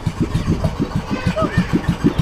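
A machine's engine runs close by with a steady, rapid chugging pulse, loud and continuous for a couple of seconds with no talk over it.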